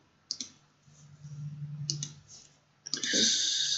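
A computer mouse clicks a few times, crisp and close: a double click, a pause, another double click, then a denser burst of clicks, over a quiet hum.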